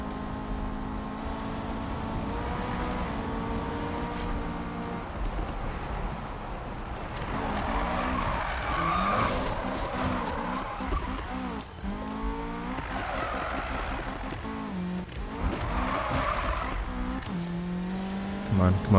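Honda Integra DC5 race car on a time trial in Need for Speed 2015, its engine revving steadily through gear changes with tire squeal and skids, while someone talks over much of it.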